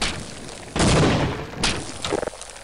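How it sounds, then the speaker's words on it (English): A grenade detonating in the game Half-Life: Opposing Force, heard as a loud booming blast with a rumbling tail, followed by a couple of further sharp bursts and a short crackle. "let's just throw down a grenade here"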